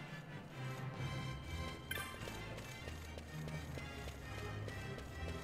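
Running footsteps tap in a fast, even rhythm in Final Fantasy XII, quiet against low background music, with a brief brighter chime partway through.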